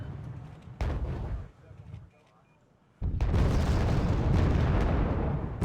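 Booming artillery fire in the video game Wargame: Red Dragon, a heavy blast followed by a brief lull, then a sustained loud rumbling barrage; a voice talks early on.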